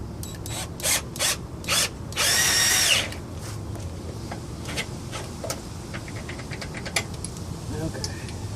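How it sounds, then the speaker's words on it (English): A power drill fitted with a 1/2 inch 13mm socket and an extension gives several short whirring bursts and one longer run, with light clicks and handling noise between them. "I've got a 1/2 inch 13mm set to go on the drill."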